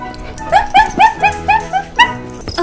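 A small, fast puppy gives a run of rapid high-pitched yips and whimpering barks, about eight close, loud cries in quick succession, with some voices in the background.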